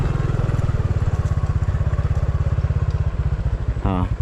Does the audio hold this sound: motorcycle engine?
yes